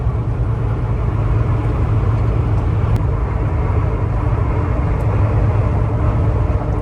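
A Peterbilt 579 Ultra Loft with a PACCAR MX-13 engine cruises at 60 mph and 1100 RPM, giving a loud, steady, low in-cab drone and road rumble with no talking.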